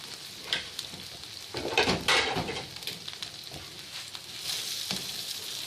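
Vegetables sizzle and fry in a pan of butter and oil while being stirred and mixed, a steady crackling hiss with a few louder bursts of scraping and tossing partway through; no talking.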